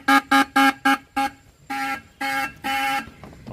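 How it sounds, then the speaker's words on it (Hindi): The stock horn of a Hyundai Verna car honks five times in quick, short beeps, then sounds three longer blasts. Each blast is loud and close, with a clear, steady tone. "पहले लगे हुए हॉर्न है उसकी वीडियो एक बार दोबारा वो थोड़ी साउंड सुन लेते हैं"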